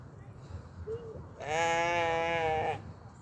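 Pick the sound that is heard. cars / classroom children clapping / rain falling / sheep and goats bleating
sheep and goats bleating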